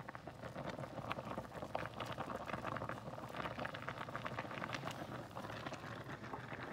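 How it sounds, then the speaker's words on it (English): Spaghetti pasta at a rolling boil in a pot of water at a camp stove, a continuous faint bubbling and popping texture heard close up with no talking. "the pasta's at what we call a rolling boil right now"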